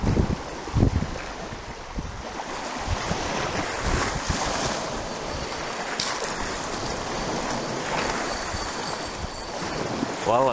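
Surf washes steadily onto a Great Lake beach, a continuous broadband rush with repeated swells breaking nearby, mixed with gusty wind buffeting the microphone.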